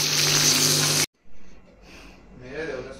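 Paratha frying in a pan, a loud steady sizzle that cuts off abruptly, followed by quieter intermittent kitchen sounds and faint activity.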